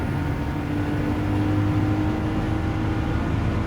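Porsche 911 Turbo 930 from 1981 in Gran Turismo 7, its engine droning steadily at close range with a sustained whirring turbo spool building underneath, loud and continuous with no talk.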